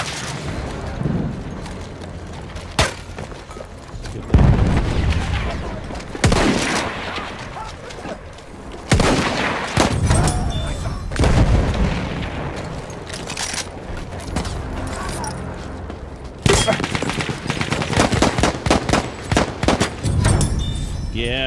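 Battlefield 1 multiplayer combat with machine gun fire in bursts and heavy explosive booms, loud and dense throughout, with players talking over the chaos.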